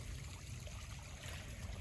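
Rainwater running about two inches deep through a homestead yard on a rainy day, a faint, steady low wash of flowing water with no voices.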